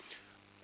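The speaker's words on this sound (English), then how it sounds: "Sorry, I have a bit of cough." A single short, sharp cough bursts out at the very end after near silence, close and loud, from a presenter giving a talk on multimodal patient data integration.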